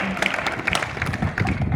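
Applause from an audience welcoming a guest at a public event in Lohardaga, a steady wash of many hands clapping throughout, fairly near, with faint voices mixed in.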